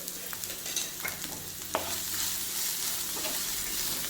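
Sliced onion fries and crackles steadily in a pan as a spoon stirs through it, giving a close, continuous sizzle with a few light scrapes and one sharp knock, and no talking.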